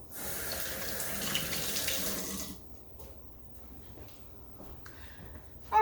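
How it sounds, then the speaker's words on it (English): Hands washed under a running kitchen tap after handling oiled sweet potatoes, a steady close splashing stream that stops partway through, followed by faint clinks and a quiet room. "let me wash my hands again because I got some oil on them"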